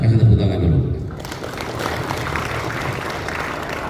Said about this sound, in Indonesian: Nah, ini kepala madrasahnya, kasih tepuk tangan dulu.